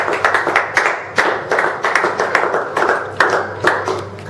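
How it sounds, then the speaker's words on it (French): Congregation applauding in a church, a dense run of rhythmic hand claps with regular accented beats, fairly close and steady throughout, with no talk over it. "Si nous pouvons encore une fois de plus acclamer pour cette grâce."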